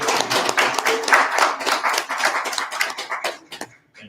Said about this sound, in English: please give a very round of applause to our speakers